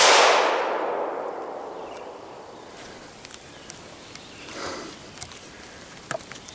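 A Glock pistol fires a single shot through solidified wax, a sharp loud blast at the start whose echo fades over several seconds, followed by faint clicks and rustles.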